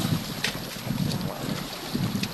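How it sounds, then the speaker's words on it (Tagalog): Wind gusting across an open microphone, a steady rumbling buffet with bursts of breathy rushing, outdoors by a lake. "Hangin."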